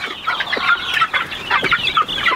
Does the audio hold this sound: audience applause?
no